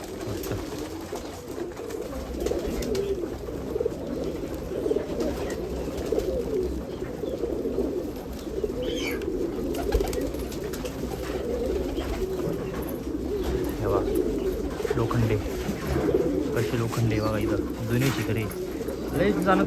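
Gauran pigeons in Nashik coo continuously in soft, throaty rolls, several birds overlapping close by over a steady background murmur.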